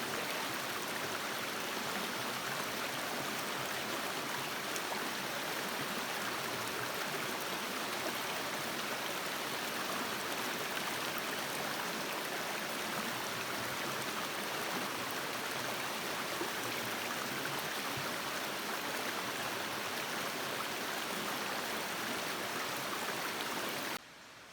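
Bradley Fork, a mountain stream in the Great Smoky Mountains woods, rushes in a steady broadband wash that stays even and fairly loud throughout, with no voices.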